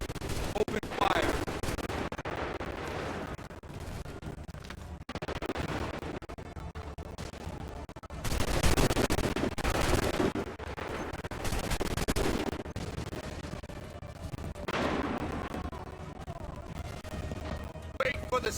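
Musket gunfire in Assassin's Creed 3 gameplay: repeated loud bursts of volley fire and crashing impacts over about eighteen seconds, separated by brief lulls, with battle noise and voices in the mix.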